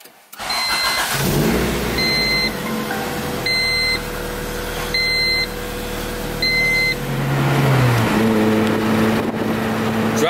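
Honda Civic with a swapped B18 engine and manual conversion idling and pulling away; a steady mid engine drone runs throughout with a repeated electronic chime beeping several times, then revs rise near the end, no talking.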